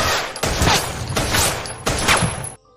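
Gunfire in a yakuza action film shootout, with repeated loud bursts of shots in about four heavy clusters that cut off abruptly at the end.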